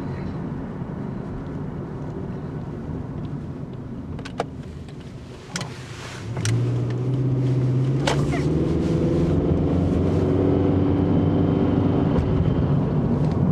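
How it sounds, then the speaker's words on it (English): An old, clanky car drives along with a steady engine and road rumble whose tone rises as it is pushed harder, with a few sharp knocks and clunks near the start. "I don't know if you can hear the clankiness when you drive it a little harder"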